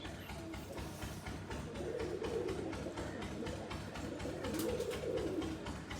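Pigeons kept in a loft coo repeatedly, with soft, throaty rolling calls that swell twice and sit over a steady background hum, fairly close and continuous throughout.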